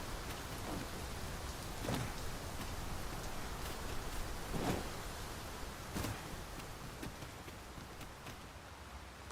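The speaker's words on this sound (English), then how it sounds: "'Tis raining." Steady rainfall in the video game Dragon's Dogma 2, a continuous hiss of drops with a few sharper taps and hoof-like knocks scattered through it and no voices.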